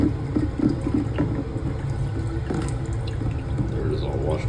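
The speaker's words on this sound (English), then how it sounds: "it just has a little rotating fan at the bottom that stirs up the isopropyl" A small rotating fan at the bottom of an Anycubic wash and cure station churns isopropyl alcohol. It makes a steady, close liquid swishing and gurgling that continues for several seconds.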